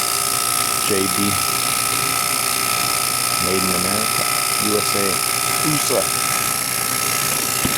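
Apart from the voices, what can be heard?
JB Platinum vacuum pump running on greenhouse AC system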